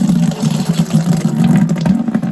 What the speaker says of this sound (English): drain the rest of the cold water out of this line